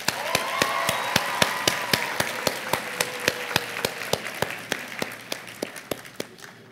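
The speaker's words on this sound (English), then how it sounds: "So a round of applause for them as well, please." Applause at a secondary school graduation ceremony, honouring the graduates' parents: a steady run of sharp claps in a fairly regular rhythm over a soft crowd wash, slowly thinning toward the end.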